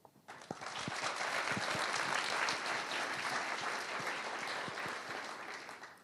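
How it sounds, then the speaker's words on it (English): A large audience at a leadership talk by Risto Siilasmaa breaks into loud, sustained applause that swells quickly and holds for several seconds before tapering. "everybody, massive applause."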